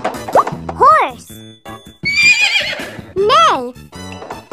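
A horse neighs loudly and close by in two shaky, rising-and-falling whinnies separated by a short pause, with spoken words at the start and end.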